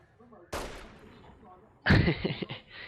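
Gunfire in Fallout: New Vegas Dead Money, two sharp loud bursts: a single gunshot with a decaying tail, then after a pause a rapid heavier volley of several overlapping shots.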